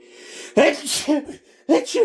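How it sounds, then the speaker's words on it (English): A single close, loud sneeze from one person, preceded by a faint intake of breath and followed by short bursts of speaking voice. "first time ever sneezing on camera"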